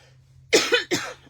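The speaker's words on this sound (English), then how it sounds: "Oh my goodness, that pesky cough is going to come back." A person coughs two or three times in quick succession, a close, harsh burst lasting under a second after a quiet pause.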